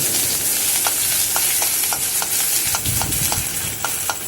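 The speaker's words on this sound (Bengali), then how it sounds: "দিয়ে ভালো করে আমি ফোড়নটাকে সুন্দর করে ভেজে নেব।" Spice tempering frying in hot oil with grated ginger for a bitter gourd dal, a steady close sizzle with regular light stirring taps throughout.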